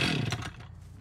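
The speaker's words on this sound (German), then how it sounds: "Wahnsinn, wie schnell man mit der Kettensäge ist." A chainsaw roars loudly in the Dead by Daylight horror game, a harsh buzzing burst that is strongest at the start and then fades out within a second.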